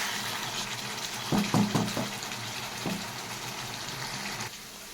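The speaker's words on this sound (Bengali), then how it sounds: "আমি একটু গরম জল দিয়ে দিলাম।" Hot water is poured into a cooking pot of frying mutton curry, a steady watery pour with a sizzling burst partway through, then the pour continues before stopping near the end.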